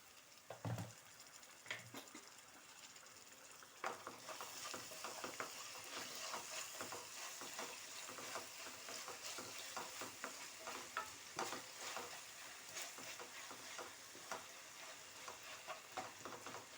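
Onions sizzling in a pan as salt and ginger garlic paste go in; faint crackling fry with scattered clinks and scrapes of a stirring spoon, no voices.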